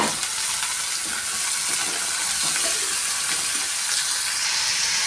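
Small shallots frying in hot oil with mustard seeds for a South Indian dish, a steady close sizzle and crackle with occasional stirring, no voices.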